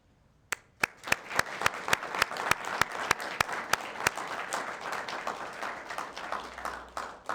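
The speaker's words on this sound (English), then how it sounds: "would the veterans in our audience please stand so we can applaud you?" Audience at a Veterans Day ceremony applauds veterans who stand, starting with a few sharp, evenly spaced claps that quickly thicken into a sustained round of crowd applause, moderately distant, ending with scattered final claps.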